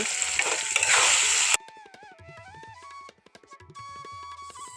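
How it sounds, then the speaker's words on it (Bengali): Banana flower and chana dal curry with turmeric, salt and chilli being stirred in a hot pan: a loud, dense sizzle with scraping for a moment, then it cuts to soft background music with faint scrapes. "সমস্ত উপকরণ এখন একটু নাড়াচাড়া করে নেব"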